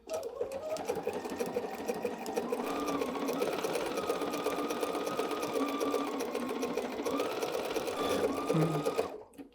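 Sewing machine stitching binding onto a fabric pillow wrap, a fast, even mechanical whirr running steadily and close for several seconds before stopping abruptly.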